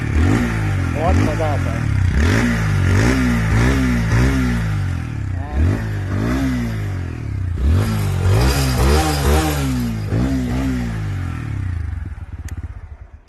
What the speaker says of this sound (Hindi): ये सबसे बेस्ट पार्ट है of the Apache after the exhaust sound.